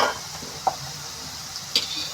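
Purple yam pieces sizzle softly in hot oil, a faint, steady frying hiss broken by a few light clinks of a spoon or utensil against the pan.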